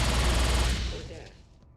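Automatic gunfire from a weapon in the video game Fallout: Brotherhood of Steel: a loud, dense burst of rapid shots lasting under a second, then a quickly fading echo.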